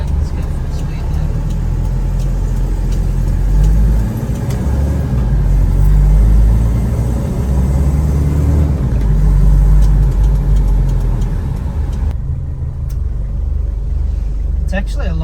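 Cabin view of an LN106 pickup with newly installed sound deadener, driven at speed: steady low engine and road drone with a broad rumble throughout, fairly loud and constant, easing slightly near the end.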